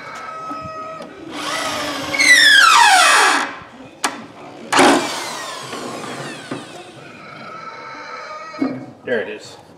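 A power drill drives screws into pallet wood while a chicken brooder is built on wheels. There are loud whining bursts of the drill with rising pitch sweeps and sharp knocks in between, and a voice can be heard faintly at times.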